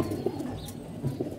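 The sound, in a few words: pigeons cooing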